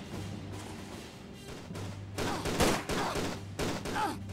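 Enemy gunfire in Tomb Raider: The Angel of Darkness, with several loud bursts of rapid shots in the second half over a low game background hum.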